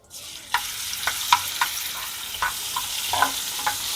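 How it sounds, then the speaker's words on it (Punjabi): Ground garlic and ginger hit hot oil in a pan for stuffed eggplant, giving a soft steady sizzle with several clinking stirs of a utensil, up close and without talk. "ਇਹਦੇ ਵਿੱਚ ਅਸੀਂ ਪਾਵਾਂਗੇ ਥੋੜਾ ਜਿਹਾ ਗ੍ਰਾਈਂਡ ਕੀਤਾ ਹੋਇਆ ਲਸਣ ਅਦਰਕ"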